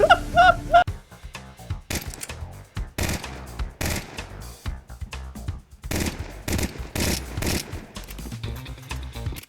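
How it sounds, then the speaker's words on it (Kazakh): Pistol fire from a shooter video game crackles in rapid, dense volleys of close, sharp shots, with brief gaps between bursts. "Екі пистолеттен қараңдар."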